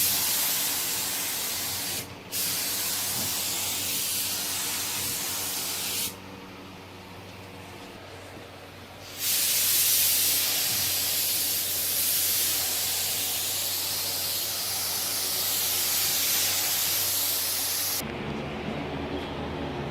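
A spray gun lays clear coat over a stripe on a Mustang, a loud close continuous hiss running in long bursts with brief pauses between passes.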